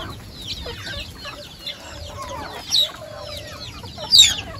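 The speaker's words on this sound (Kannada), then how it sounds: "ನೋಡ್ತಿರ್ಬೋದು ನಮ್ಮ ಕೋಳಿಗಳೆಲ್ಲ ಇಲ್ಲೇ ಇದೆಲ್ಲ" Farmyard chickens clucking and calling while gathering at feed, several birds close by with scattered short clucks and a couple of louder squawks over light ambient noise.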